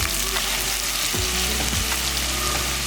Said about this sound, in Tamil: இது நல்லா ப்ரௌன் கலரில் நல்லா வறுத்துக்கணும்